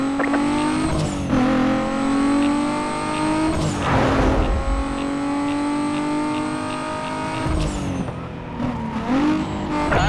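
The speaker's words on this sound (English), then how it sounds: "Vehicle is a red sports car." A red sports car in the video game Need for Speed Most Wanted (2005) drives hard, its engine revving loudly and climbing through gear shifts with brief dips, tires squealing in places.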